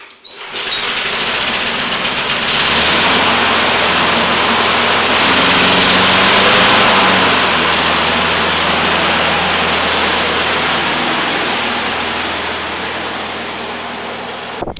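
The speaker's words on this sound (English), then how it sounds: "The lawnmower ran fine and seemed to have as much power as a 4-horse mulching mower should." A 4-horsepower mulching mower's Briggs and Stratton gasoline engine runs loudly and steadily nearby, briefly revving higher before settling into a continuous drone that eases slightly toward the end.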